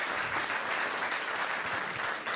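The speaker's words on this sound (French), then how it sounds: "on peut les applaudir, hein, franchement." An audience claps throughout, a continuous dense patter of many hands at a steady level with no pauses.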